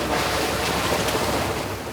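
Loud, rushing surf and churning water fill the whole stretch during a coast guard sea rescue drill, with wind noise blended in.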